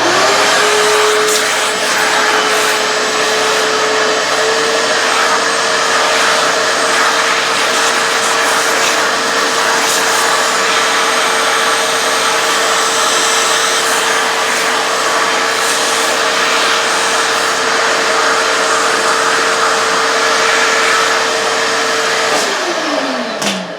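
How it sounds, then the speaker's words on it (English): A shop vacuum sucks up sawdust with a loud, steady, close roar that runs for over twenty seconds before shutting off. "We'll suck our dust up here real quick."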